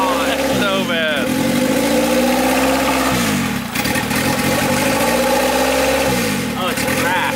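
A car engine with a cracked, broken turbo runs loudly close by, revving up and down in repeated surges with a rough, strained tone, while people talk over it.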